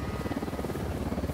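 A video game helicopter drones in a steady rotor thrum with fast regular chopping pulses, continuous and moderately loud throughout the short stretch.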